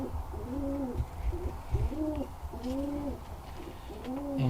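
Birmingham Roller pigeons cooing close by, a series of soft, rounded, repeated coos in a steady rhythm with short pauses between, over a low background rumble and no talking.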